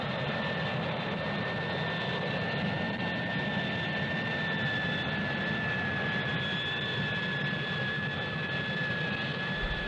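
Harrier jump jet engines roar steadily, a loud continuous broadband rush with a high whining tone held throughout, no voices.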